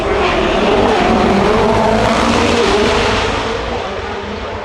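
A downforce-heavy track day car, a Brabham-era Gordon Murray design, roars past at a supercar event, its loud engine note swelling then fading slightly across a few seconds with no talk.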